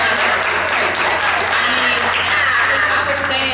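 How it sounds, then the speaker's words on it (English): Dense, sustained applause from a large audience, steady and loud for several seconds with some voices mixed in. "Clap if you've seen Tina."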